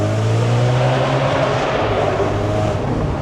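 Supercharged 630 bhp Audi RS4 Avant exhaust echoing in a tunnel, a loud, deep, sustained engine roar with a steady low drone and no voices.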